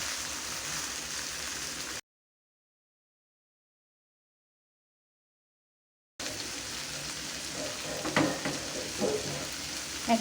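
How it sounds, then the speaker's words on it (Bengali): Prawns and coriander leaves fry in a pan for a tomato and coriander bharta, giving a steady sizzle that cuts out into a few seconds of silence, then returns with soft stirring scrapes. "ধনিয়া পাতাটা দেওয়ার পরে আর বেশিক্ষণ ভাজা প্রয়োজন হবে না"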